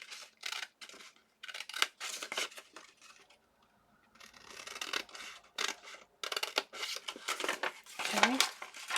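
Paper for a junk journal pocket is cut with scissors in short close snips and slices, mixed with light paper rustling and broken by brief pauses.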